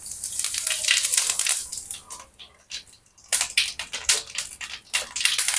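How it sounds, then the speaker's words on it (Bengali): Cumin seeds dropped into hot oil crackle and hiss in loud, spitting bursts that briefly die down before flaring up again, close and without talk. "তেল গরম হয়ে গেছে, এবার আমি জিরা দিয়ে দিচ্ছি।"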